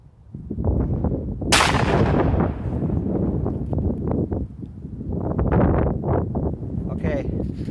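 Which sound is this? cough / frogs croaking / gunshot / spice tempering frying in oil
gunshot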